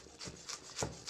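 A knife slices through palm kale on a cutting board in a few soft, evenly spaced strokes, each a quiet rasping cut with a light thud from the board.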